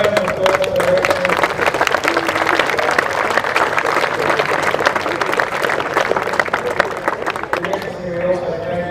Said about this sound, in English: let's have a round of applause for the referee.